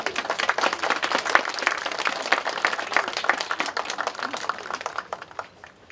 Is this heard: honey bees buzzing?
no